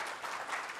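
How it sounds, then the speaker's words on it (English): A university lecture audience at the University of Nairobi breaks into applause, a brief dense wash of clapping filling the hall with no break. "yes, we clap here."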